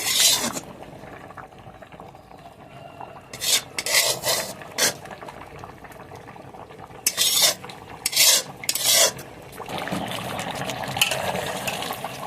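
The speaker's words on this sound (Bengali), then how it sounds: "এখন হালকা হাতে একটু নাড়িয়ে দেবো, তাহলে তলায় লেগে যেতে পারে" A spoon scrapes gently through tehari in a pot, in short bursts of stirring and scraping against the pot that come in irregular clusters over a low simmering background, close up with no talk.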